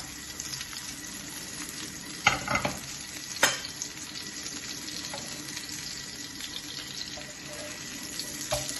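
Sesame-crusted chicken breast cooking in a pan, a soft steady sizzle with a few louder scraping and clattering bursts from handling the pan.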